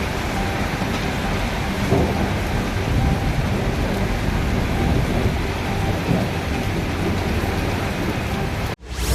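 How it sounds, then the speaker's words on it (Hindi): Steady afternoon rain falls in Jammu, a dense, continuous hiss of drops on surfaces with a low rumble beneath, loud and even throughout before cutting off sharply near the end. "जम्मू में दोपहर बाद बारिश होने से बढ़ी ठंड।"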